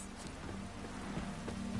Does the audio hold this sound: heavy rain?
yes